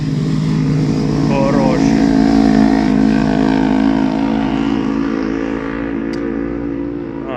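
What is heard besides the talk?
motorcycles passing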